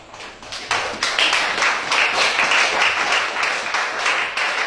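A congregation at a church service bursts into sustained applause, dense and loud, with rhythmic clapping running steadily to the end after a brief quieter start.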